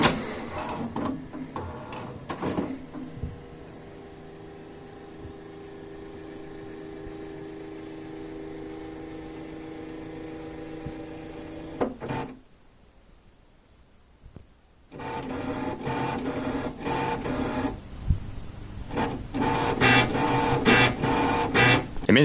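A color printer runs through a long stretch of whirring, clattering mechanical printing, stops for a few seconds of near silence, then starts up again with busier, louder chatter. No one speaks over it.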